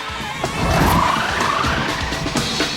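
A car wrapped in aluminum foil drives past a radar detector, its engine and tire noise swelling into a loud, steady pass that holds for a couple of seconds.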